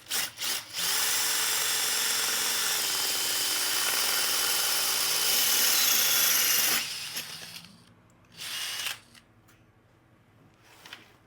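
A power drill with a spade bit whines loudly and steadily for several seconds while boring, then stops; a couple of brief bursts of noise follow before near quiet.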